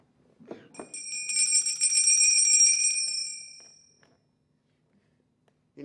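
A small hand bell rung onstage in a theatre production of Molière's comedy Le Malade Imaginaire, a bright jingling ring lasting a few seconds before fading, with a faint thump just before it.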